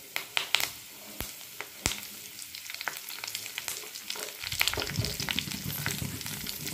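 Mustard seeds, a red chilli and curry leaves fry in hot oil for an evening tea-time snack, with scattered pops, crackles and spoon taps close up, swelling into a denser, louder sizzle toward the end, with no voices.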